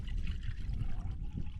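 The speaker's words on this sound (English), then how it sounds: "I just knocked the water over when I was filming that for you" Water spilling out of a knocked-over container inside a tent on Dartmoor, a short burst of glugging, splashing pour heard close up.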